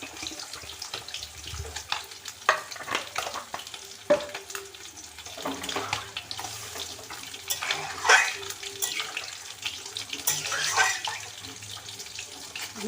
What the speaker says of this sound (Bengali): আমি এবার দিয়ে দিচ্ছি পরিমাণ মতো জল